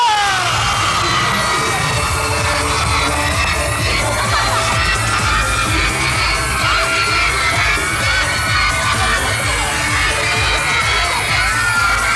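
A large studio audience on a Thai TV show cheers and whoops loudly and continuously welcoming a K-pop group, with high excited voices over a dense roar of clapping and shouting.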